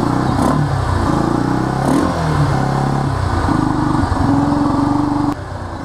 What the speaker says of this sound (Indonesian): motornya sudah nyala kembali dan pada karburator tidak banjir